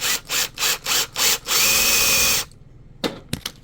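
A power drill bores a 3.8 mm hole in an RC boat rudder (Proboat Blackjack 24) for a brass tube, five short whirring bursts followed by a longer sustained run, then silence and a few faint knocks.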